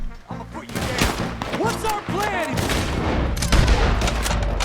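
Rapid gunfire in Red Dead Redemption 2, with repeated sharp shots and booms loud and close throughout a dense in-game shootout, while someone speaks over the action.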